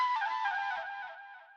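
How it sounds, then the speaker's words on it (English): A flute sample from an Afrobeats production sounds a single sustained breathy note, clear and alone, fading over under two seconds. "So I just had this flute that just feeds off the guitar so well."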